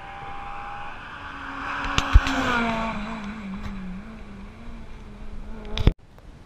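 A Citroën C2 rally car on a stage of the Rallye du Chablais approaches with a rising buzzing engine note, passes close with a loud rasp and sharp bangs, then fades before a final cut-off.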